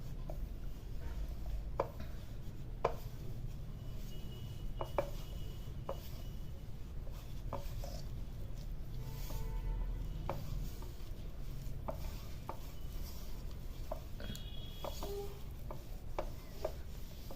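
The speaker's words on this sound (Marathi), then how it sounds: "आता हे मळून घ्यायचंय." Hands knead pearl millet (bajra) flour dough, giving quiet, soft rubbing and pressing sounds with occasional light taps and squelches, close by and faint, with no talking.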